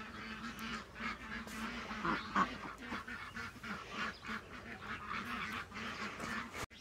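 A group of ducklings on a farm keeps up a dense, continuous chorus of quacking and peeping at a moderate distance, steady throughout with no talking.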